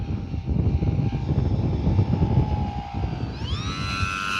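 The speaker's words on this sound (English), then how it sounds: "Now I'm landing into the wind." E-flite Sportix 1.1 m RC airplane landing into the wind at a flying field, its electric motor whining steadily under strong wind noise, then rising sharply in pitch near the end as the throttle comes up.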